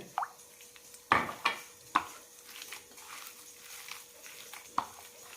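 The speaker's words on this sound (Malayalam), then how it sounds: "കുറച്ച് വെള്ളം ചേർക്കുന്നുണ്ട്" A little water is added to mashed flattened rice in a bowl: faint drips and a few sharp clinks of utensil against dish, spaced irregularly over a quiet background.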